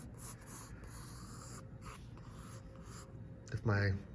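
A pen or pencil scratches softly on paper while a circle is drawn by hand, with the camera held in the other hand. The strokes are faint under steady room noise, with a brief louder rustle near the end.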